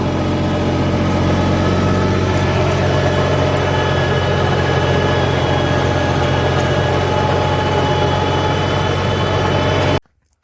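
A tractor engine runs steadily and loudly, with a deep continuous rumble and hum that cuts off abruptly at the very end.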